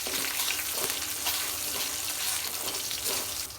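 Cumin and crushed whole garlic cloves frying in hot oil give a steady, close sizzle with a broad hiss that runs unbroken for a few seconds and eases slightly at the end.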